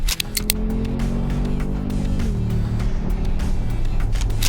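A Mercedes-AMG G63 accelerates to overtake on an open road. The engine drones loudly and steadily, its pitch climbing before dropping at a gearshift, then pulling on with constant road noise.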